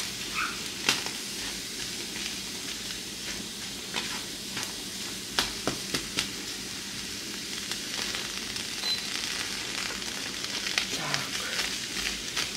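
Ground beef frying in just a little oil in a pan: a steady, close sizzle with scattered sharp clicks and scrapes from stirring, and no talking.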